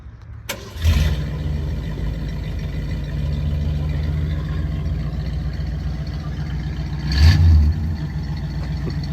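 A 1966 Ford Galaxie with a stock 289 V8 and stock exhaust starts up with a sharp crank, then settles into a steady, close, rumbling idle, with a brief blip of revs near the end.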